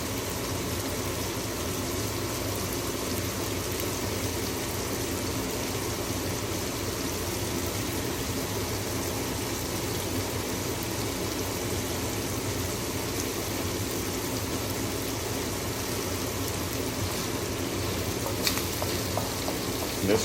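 Shrimp scampi with garlic, artichoke hearts and caper berries cooking in a pan over medium heat gives a steady, even sizzle and crackle that lasts throughout, with no talking.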